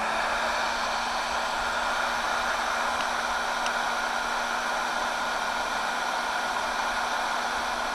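Wagner Furno 500 heat gun blowing on high heat, a steady loud broadband rush of air with a faint constant hum, unbroken throughout.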